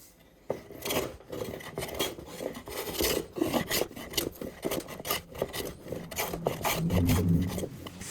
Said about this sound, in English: I've finished hand planing both surfaces.